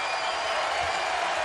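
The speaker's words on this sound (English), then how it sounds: "Crowd back in it." Basketball crowd at the 2017 Big South Championship final, Campbell vs Winthrop, roaring and cheering as a steady, dense wash of noise throughout, with no talk over it.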